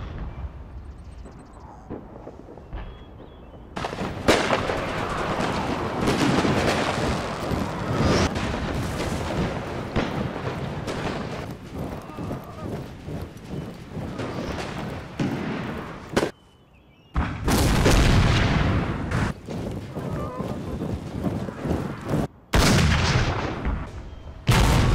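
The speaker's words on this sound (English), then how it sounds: "Union artillery opens on the advancing troops." Union artillery pounds advancing troops in a Total War recreation of the 1863 Battle of Gettysburg, with heavy booming cannon fire and rumbling blasts in a loud continuous roar broken by a couple of brief pauses.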